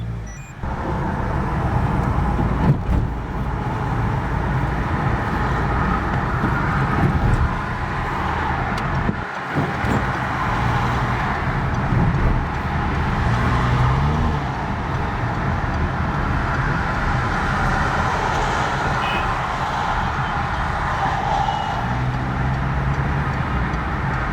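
Peugeot 308 with a 1.6 VTi engine, hesitating while cruising, driven on a main road, heard from inside as a steady, loud engine and road rumble that runs the whole time with no breaks and no talking.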